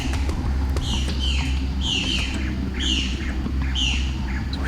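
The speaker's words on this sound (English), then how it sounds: "Just by chance he sees a bird, hears a bird." A bird squawks in a forest during a survival hunt, a series of about five harsh, descending calls spaced roughly a second apart, fairly close and clear over a steady low background rumble.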